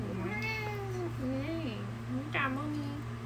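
A cat gives several close, drawn-out meows with rising and falling pitch, over a steady electrical hum in an indoor livestream setting.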